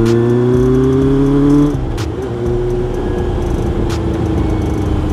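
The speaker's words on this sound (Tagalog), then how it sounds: "ang ingay ng motor" A loud engine drones with a steady pitch, then drops abruptly and settles into a lower, rougher rumble, close by.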